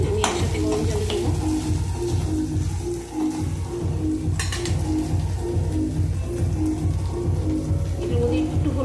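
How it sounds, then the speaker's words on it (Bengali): Pieces of paneer fry in a hot pan with a steady close sizzle and crackle, punctuated by stirring scrapes, while a person talks over it. "দাঁড়াও এগুলি ভেজে নিই, আমি একসাথে গরম জলে দেবো।"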